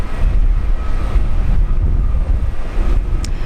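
A nine-year-old airliner rolls out after landing at Brisbane airport in heavy rain, a loud, steady broadband engine roar mixed with rain hiss from start to finish.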